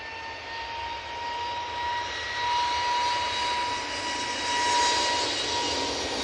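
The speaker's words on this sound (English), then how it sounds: "this is an A320neo, and it'll be a positioning flight to London Gatwick" An Airbus A320neo jet on a positioning flight at Manchester Airport takes off with a steady, loud engine roar and a whining high tone, swelling slightly toward the end, with no talk over it.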